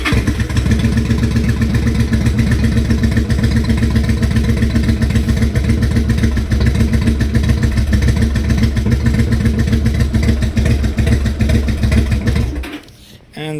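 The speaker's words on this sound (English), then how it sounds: "now it works perfectly, and the bike even starts" A Yamaha V Star 1100 motorcycle engine runs steadily at close range, with a loud, even low-pitched thrum and mechanical clatter that continues for about twelve seconds before cutting off near the end.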